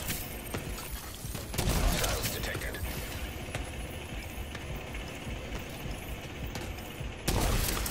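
Gunfire from a team fighting a raid boss in the video game The Division 2, a steady stream of shots running throughout with louder bursts near the start and end, while players talk over it.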